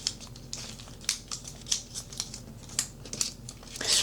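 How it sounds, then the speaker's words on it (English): Scissors snipping through transfer paper, a string of quick close cuts with faint paper crinkling, a slight rustle at the end and no talking. "I need to cut me a larger piece of transfer paper for the next project that I do."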